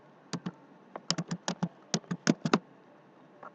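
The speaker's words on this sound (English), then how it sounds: "you type in the page" Bursts of typing on a computer keyboard, roughly a dozen crisp, close keystrokes in quick irregular clusters, then a lone faint tap after a pause, with no voices.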